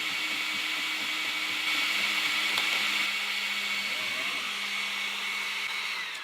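An Ortur Laser Master 3 engraves a logo on resin with a steady, close whirring drone. A low mechanical hum steps and shifts pitch as the head moves, and no one talks.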